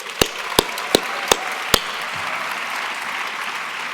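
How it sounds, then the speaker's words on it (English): Applause at a commencement ceremony opens with a few sharp, separate claps, then settles into a steady, dense wash of clapping from a large audience. "I'm sure everyone here will join me in giving her a resounding round of applause"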